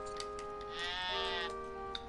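A single sheep in a video game lets out a wavering bleat, fairly faint, with a couple of small clicks around it and no talking.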